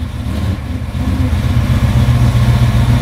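A car engine with a suspected non-charging alternator runs loud and close at a steady idle, then revs slightly higher as its low rumble swells toward the end.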